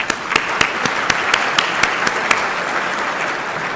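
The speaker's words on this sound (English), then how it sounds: "Let's give him some applause." An audience at the Central Houston, Inc. 2012 annual meeting applauds Congressman Al Green with a full, even wash of clapping, and a few sharp nearby claps stand out on top.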